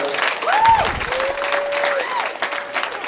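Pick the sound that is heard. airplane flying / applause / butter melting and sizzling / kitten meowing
applause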